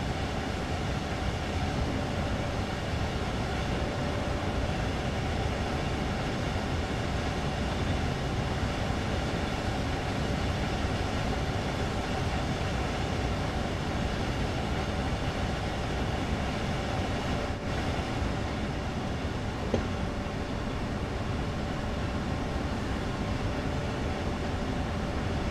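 A regional train in Train Sim World 4 runs on the Main-Spessart line toward Lohr, a constant loud rolling rumble and drone of wheels on track, with a faint steady tone and no pauses.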